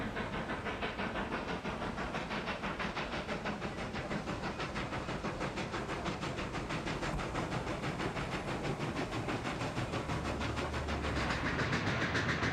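A steam-era commuter train passes a busy freight yard, a continuous broad roar of rolling stock with a fast rhythmic clatter and hiss, heard from a distance and holding steady throughout.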